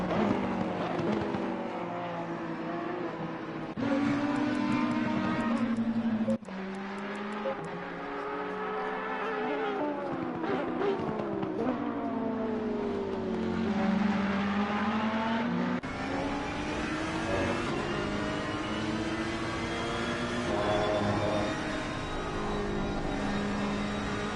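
Ferrari and Audi race cars battle for third at the Nürburgring, engines revving and shifting loudly through gears in continuous sweeping whines, with one car following closely.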